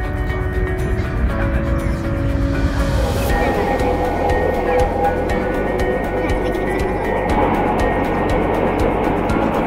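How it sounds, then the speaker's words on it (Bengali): A high-speed train running at up to 300 km/h between Guangzhou and Hangzhou in China hums and rumbles steadily from inside the carriage, with someone talking over it. "ট্রেন সর্বোচ্চ 300 কিলোমিটার বেগে ছুটবে।"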